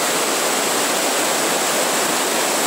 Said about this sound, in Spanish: Bueno, llegamos a una cascada.